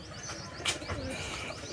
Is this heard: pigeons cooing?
yes